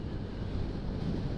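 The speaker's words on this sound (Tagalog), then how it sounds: "Tapos sobrang lakas ng hangin." Strong mountain wind in Bakun, Benguet, heard early in the morning, batters the microphone as a loud, low, continuous rumble with no break for the whole moment.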